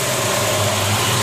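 A 1969 Dodge Charger engine runs at a steady idle, with a deep, continuous rumble and low vibration. It is close and loud throughout, with no talking.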